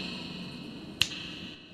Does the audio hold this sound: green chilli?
no